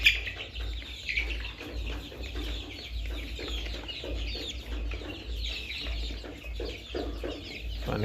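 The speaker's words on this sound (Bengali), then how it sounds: "পানির জন্য অস্থির হয়ে আছে মুরগিগুলো।" Layer hens at a poultry farm cluck steadily and loudly in a dense flock, with overlapping calls throughout and a low constant hum beneath.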